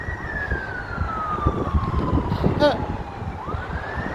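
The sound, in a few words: ambulance motorbike siren passing through traffic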